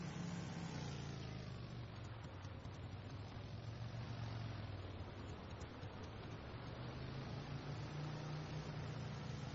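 A motorbike engine in a video game runs while riding, a steady, continuous loud drone with a low hum that holds evenly throughout, with no talking.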